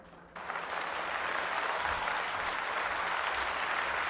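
Loud, sustained applause breaks out and fills the hall as an honoree is welcomed at an awards ceremony, a dense steady clapping from a large audience.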